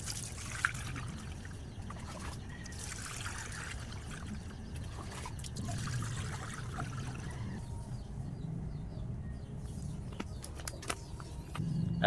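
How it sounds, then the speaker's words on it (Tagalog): A rusty motorcycle gas tank soaking in water and vinegar overflows, giving a steady, close trickle and dribble of liquid that runs without pause, with some low background rumble underneath. "At yan, umapaw po ang kanyang tubig"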